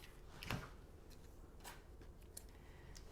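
A single quiet snip of scissors cutting through several layers of twine on spring decor, followed by faint small ticks in a hushed room.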